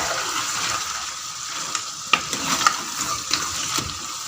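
Turnip and meat fry in ghee with green chillies and chopped spinach, giving a steady sizzle. A spoon knocks and scrapes against the pot several times, close up and without speech.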